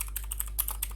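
Fingers type code on a computer keyboard in a quick, uneven burst of about eight crisp key clicks over a second, close and fairly quiet with a steady low hum underneath.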